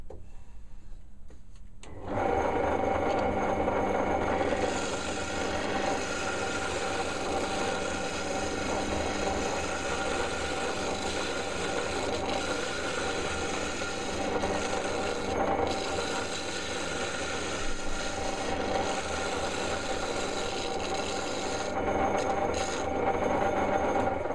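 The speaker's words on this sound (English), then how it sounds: "Now I'll stop the lathe." Wood lathe running while wood is turned, a steady close rasping, rubbing whir that starts after a brief quiet moment and continues evenly throughout.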